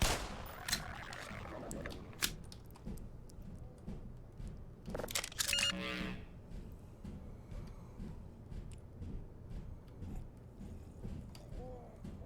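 A Glock pistol from the video game Black Mesa fires in sharp, distinct shots, several spread irregularly through the scene with one tight cluster near the middle, over low game background noise.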